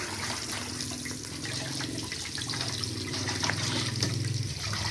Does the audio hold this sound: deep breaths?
no